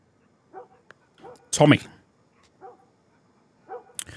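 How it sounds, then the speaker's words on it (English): A dog barks in The Last of Us Remastered on PS5, a few short barks and a whimpering yip spread across the scene, with someone briefly speaking between them. "Is that dog barking?"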